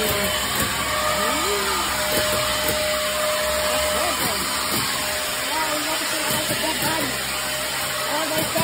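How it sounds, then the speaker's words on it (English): A blow dryer runs steadily inside a Frankenstein-themed horror museum, a continuous loud whirring hiss with a low motor drone that holds for the whole stretch, no one speaking over it. "It's a blow dryer."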